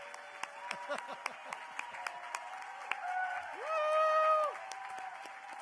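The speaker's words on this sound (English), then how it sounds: "Give them a big round of applause." Applause at a gala awards ceremony, a scattered, sparse clatter of claps from a seated audience in a large hall, sitting against steady background tones, with a brief swell of crowd noise partway through.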